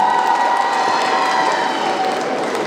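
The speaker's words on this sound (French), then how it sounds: "On peut les applaudir deux accessoiristes" An audience at a cosplay contest in Laval applauds two prop makers, producing a steady, loud wash of clapping and crowd noise with a faint tonal hum running underneath.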